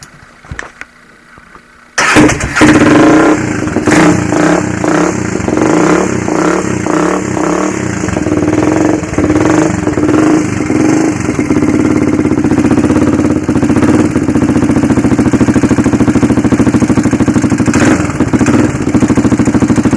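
A Honda 400EX ATV bought used fires up from cold after a couple of quiet seconds, then settles into a loud, close, uneven idle with clattering beats and some rough revving throughout.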